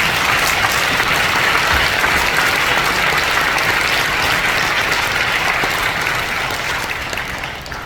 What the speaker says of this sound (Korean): 열렬한 격려의 박수